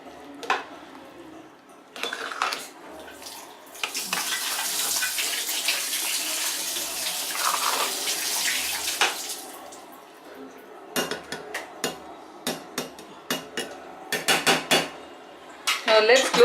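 Village-style field gram rice is mixed in a pot, with close clinks and scrapes of a spoon against metal and a rushing wet churn in the middle, then sharper scattered knocks.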